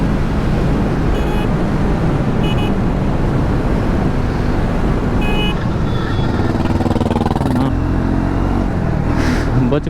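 Royal Enfield Himalayan 450 or Triumph Scrambler 400X motorcycle riding in sixth gear at high speed around 100–120, a loud constant engine drone mixed with heavy wind rush, steady throughout with no clear speech.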